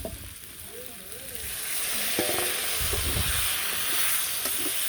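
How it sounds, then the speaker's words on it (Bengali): Potatoes and soybean chunks sautéing in a pan, a steady sizzle and hiss that swells partway through and then holds loud, with occasional stirring knocks. "এখন এই সয়াবিন সহ আর একটু ভালো করে কষানো"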